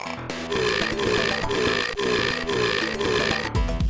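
A boss burping out fish in a Sega Genesis video game: repeated game burp sounds layered over loud, busy background music, steady with a few sharp accents and no talking.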